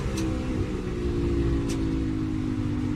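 A NASCAR Cup Series race car runs at Michigan with a loud, steady engine drone throughout. Two faint, brief ticks come from the back of the car as it passes over a bump.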